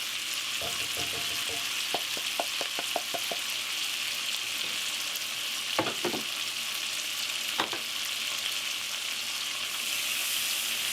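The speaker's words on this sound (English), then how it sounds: "Give this a stir. We're going to cook this for about 5 minutes, letting that onion caramelize a little bit." Onion and cabbage fry with bacon in a pan, a steady hissing sizzle underneath, with a quick run of clinking spoon taps against the pan early on and a few louder scrapes as the mixture is stirred.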